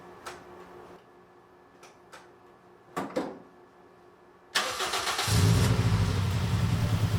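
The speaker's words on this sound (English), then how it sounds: "So now I'm just gonna prime the fuel pump a couple times and then start it." A Toyota Yaris track car with newly installed 1ZZ fuel injectors has its fuel pump primed with a few soft clicks and ticks, then the engine cranks, catches and settles into a loud, steady idle.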